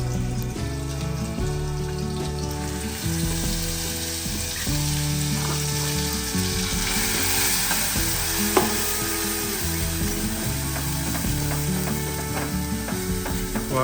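Garlic sizzles in hot tempering oil, a dense, steady crackle and hiss that runs unbroken and fairly loud, with light clinks of stirring over it and no talking.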